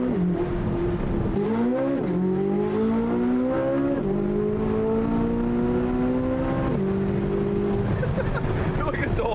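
A Corvette Z06 with a titanium Valvetronic Designs exhaust and stock downpipes roars loudly as it accelerates, pitch climbing and dropping sharply at each gear change, echoing off a building, with a voice faintly underneath.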